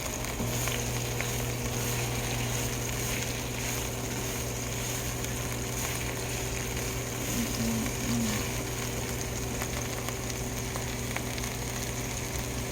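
Thick pork chops fry in hot grease with a constant dense crackling sizzle, steady and close throughout, with no talking.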